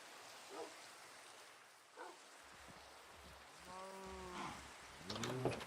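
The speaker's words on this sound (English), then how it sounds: "Still rain." Steady rain hiss in the Minecraft video game fills the scene at low level, with a few faint thuds and a brief tonal sound breaking through near the end.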